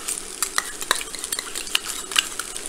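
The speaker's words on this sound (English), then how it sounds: "I'm going to add 4 cloves of garlic that have been minced up." Minced garlic hits a hot pan of asparagus and broccoli and is stirred, with close scraping and clicking of a utensil over a light sizzle in quick irregular strokes.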